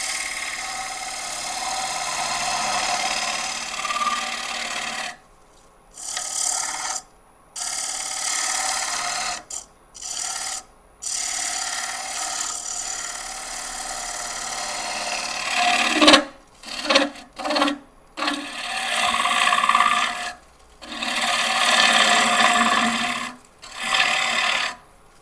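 Green wood bowl spinning on a wood lathe while a tool takes light cuts, a steady rasping scrape broken into bursts by repeated short pauses over a low motor hum.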